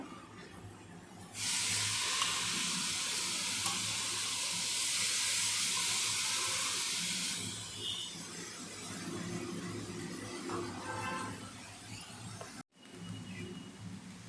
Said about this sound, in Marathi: आता आपण ह्याच्यामध्ये परतून घेऊया.